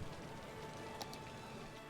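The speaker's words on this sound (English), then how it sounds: "they collect rainwater when it's raining, which it's doing right now" Steady rain in the city-building game Cities Skylines, an even, continuous hiss of falling water with a couple of brief faint clicks, no talking.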